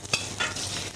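Small shrimp frying in olive oil in a pan: an even, close sizzle with a couple of brief stirring clatters near the start, no voices.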